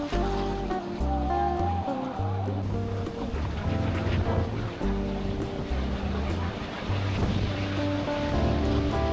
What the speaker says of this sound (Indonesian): kita lanjut lagi menyusuri pinggir pantai Kuta ini